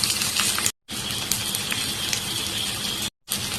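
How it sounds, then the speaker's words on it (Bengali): Garlic, onions and green chilies fry in a pan with a dense, steady sizzle and crackle, broken by two brief silent gaps. "এখন এটাই ভালোভাবে ভেজে নেব"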